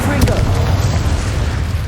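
A Confringo spell blast from Hogwarts Legacy lands as a deep, rumbling boom with a sharp crack at the start, loud and close, then a low roar that rolls on for over a second.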